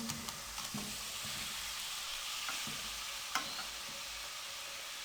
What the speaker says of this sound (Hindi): अब आलूओं को मीडियम फ्लेम पे 2 से 3 मिनट हम फ्राई करेंगे।